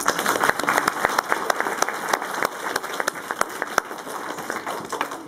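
An audience at a school awards event gives a big round of clapping for a teacher, dense and continuous with distinct sharp claps punctuating the wash, fairly loud and close, no talking over it.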